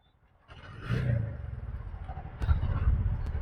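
Auto rickshaw engine firing up on a single self-start and settling into a steady running rumble with a faint clatter, close by, rising in level partway through.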